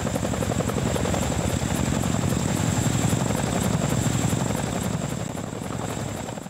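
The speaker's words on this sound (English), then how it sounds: "This is the world's biggest helicopter, and I'm inside it." Deep, steady rotor thump and engine roar of the world's biggest helicopter, heard from inside the cabin, loud and continuous throughout with a fast rhythmic beat and no talk.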